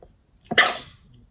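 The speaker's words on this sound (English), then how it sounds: "I need to sneeze." A single sneeze, a short intake followed by a sharp, bursting exhale, heard close and alone in a quiet indoor space.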